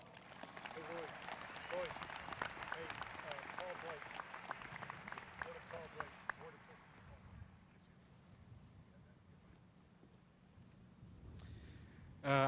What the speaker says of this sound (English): Please give our welcome guests a round of applause.